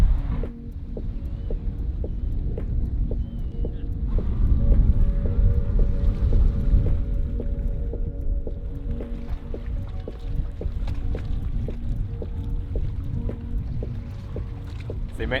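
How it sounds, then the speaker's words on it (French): A large cruise ship slides past a waterside campsite, its deep steady engine rumble and broadband water wash filling the foreground, with a regular rhythmic mechanical throb and faint music carrying across throughout. "Les bateaux de croisière, ils passent vraiment devant notre emplacement de camping."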